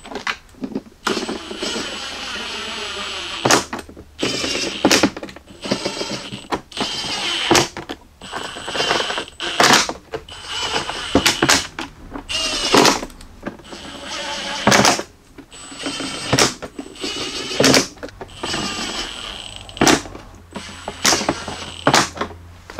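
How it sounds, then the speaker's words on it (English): A power tool drives screws around the perimeter of a Jeep Cherokee XJ heater box in repeated short whirring bursts, loud and close, with brief pauses between screws. "now I'm going to take all of our screws and start going around the perimeter and getting this box nice and tight"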